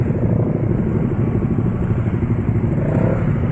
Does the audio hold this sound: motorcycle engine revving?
yes